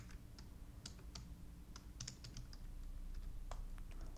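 Typing on a computer keyboard while working in Maya, with soft, irregular key clicks in quick bursts over a low background hum, fairly faint and close.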